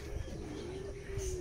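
A cockatoo at a crocodile park in Miri, Sarawak, gives one drawn-out, low, tonal call, fairly faint and close, with a little background noise around it.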